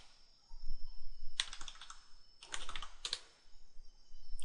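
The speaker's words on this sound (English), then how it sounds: "Then go ahead and type in the command." Typing on a computer keyboard, a few quick clusters of close, quiet key clicks separated by brief pauses, with no talking.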